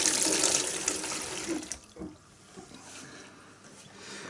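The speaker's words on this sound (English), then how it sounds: "rinse my finger so I can put it over the end of the pipe without contaminating it" A kitchen tap runs as a finger is rinsed under it during home raspberry winemaking; the splashing stream is strong for under two seconds, then drops to faint trickles and drips, close by.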